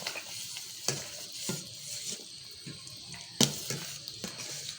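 Tamarind chutney with a coarsely ground spice mix cooking in a pan, with a steady soft sizzle, occasional stirring scrapes and liquid splashes, moderately close and free of talk.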